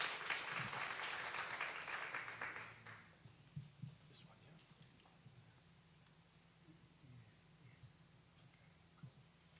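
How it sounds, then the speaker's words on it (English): A conference audience applauds a speaker, a dense wash of clapping that fills the first three seconds and then fades, leaving scattered faint claps and room noise. "A round of applause, ladies and gentlemen."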